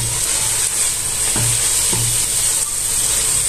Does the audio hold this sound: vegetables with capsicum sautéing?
yes